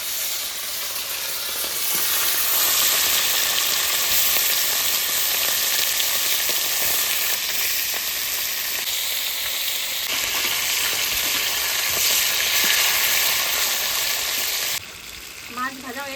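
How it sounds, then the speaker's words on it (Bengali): Fish pieces lightly frying in oil in a wok make a loud, dense, steady sizzle close at hand, rising soon after the start and holding for many seconds, with a brief dip near the end and a short voice at the close. "এবার এক এক করে মাছটা আমি হালকা করে ভেজে নেব।"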